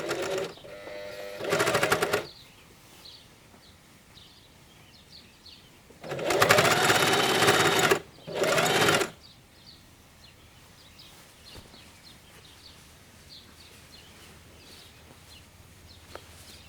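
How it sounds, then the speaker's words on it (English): A sewing machine stitches an elastic band into the waist of climbing pants in three loud, close bursts of rapid whirring, with quiet pauses between them. "Flip the elastic band fully and sew again to encase it."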